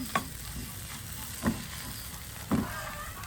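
Prawns frying with black pepper and cumin in Jaffna style, stirred continuously in a pan: a steady close sizzle with three sharp scraping stirs of a spoon against the pan.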